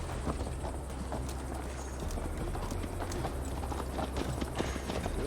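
Horse hooves clip-clopping as a rider travels in Assassin's Creed Valhalla, a steady rhythmic patter of hoofbeats at moderate distance over a low rumbling bed, continuing evenly without talk.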